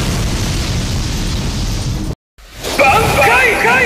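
Kido attack Senju Koten Taiho fired in the Bleach Brave Souls video game: a loud, sustained booming blast that cuts to a brief silence, then resumes with bright, shimmering energy crackles and a voice speaking over it.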